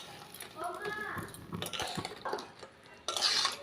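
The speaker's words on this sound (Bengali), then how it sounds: "আর এদিকে যে রসটা বানিয়ে রেখেছিলাম সেই রসে মিষ্টিগুলোকে দিয়ে দিচ্ছি, গরম গরম মিষ্টিগুলোকে যাতে রস ঢুকে যায়।" Hot Turkish tulumba sweets made from flour and egg are turned in sugar syrup, with spoon clinks and scrapes against the pan. A voice speaks over it, and a brighter clatter comes at the end.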